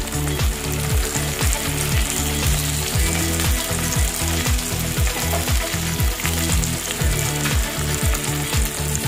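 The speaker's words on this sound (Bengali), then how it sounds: "দেখো অল্প ভাজা হয়ে গেছে" Tilapia fish frying in hot oil for a Bengali-style fish curry, a loud continuous crackling sizzle with rhythmic popping and bubbling, close by and uninterrupted.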